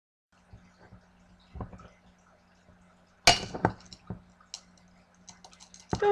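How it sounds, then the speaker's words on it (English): A glass wine bottle being forced open without a corkscrew, with scattered faint clinks, then sharp glassy cracks and scraping as the glass chips, loud and close. "I just broke the glass a little bit"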